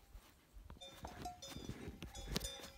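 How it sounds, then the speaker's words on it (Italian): Cowbells ring from cows grazing on a grassy mountain pasture above Cimolais, with scattered metallic clanks rising over a soft outdoor background, some near and some farther off, irregular and moderately faint. "Ci hanno fatto guidare anche dei richiami musicali di queste mucche al pascolo, che mi guardano un po' perplesse."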